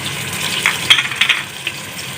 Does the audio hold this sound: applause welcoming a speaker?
no